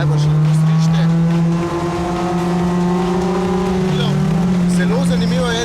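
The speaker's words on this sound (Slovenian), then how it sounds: "Zamenjali so izpuh, da je seveda bolj dirkaško glasen. Avto se dere, ker najbolj še lahko strište." Mazda MX-5 Global Cup race car with a loud racing exhaust, engine note holding a steady drone that rises and shifts pitch, close and continuous.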